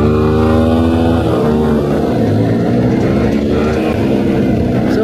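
A TVS Apache 160 4V and a Suzuki Gixxer SF 155 in a top-end drag race, one loud engine droning and climbing through the revs close by, with a second tone blending in as they pull away.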